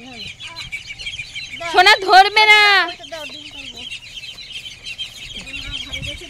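Backyard chickens and ducks at feeding time, with clucking and a brief loud burst of squawking calls over steady chirping in the background; a person speaks briefly partway through.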